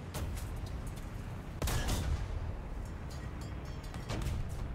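M3 GMC in War Thunder firing its gun amid battle noise: a few sharp reports with one heavy blast near the middle, over a constant rumbling engine drone, with no speech.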